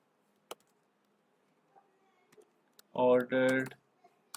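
Scattered single key clicks from a computer keyboard, crisp and close against near silence, then a brief burst of a voice speaking before a few more taps.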